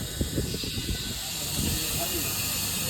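Steady, loud hiss of gas being pumped into a vehicle at a filling station, running continuously with voices talking over it.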